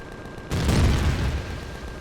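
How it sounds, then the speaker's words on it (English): Enemy gunfire hits a warehouse in the Empyrion Galactic Survival video game: one sudden heavy boom-like impact that rings out and decays slowly, loud and close, over a steady background tone. "they're starting to shoot holes through the warehouse"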